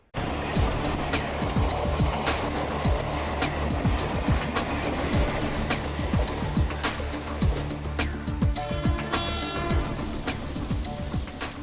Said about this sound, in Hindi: मुंबई की लाइफलाइन कही जाने वाली लोकल ट्रेनें बिजली से चलती हैं।